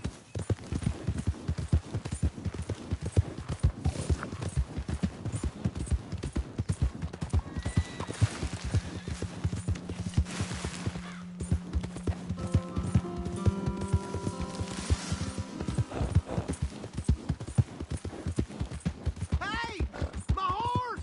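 Horse hooves clip-clop in a steady, rapid rhythm throughout a stretch of Red Dead Redemption 2 gameplay, close and continuous, with a whinny near the end and speech in places.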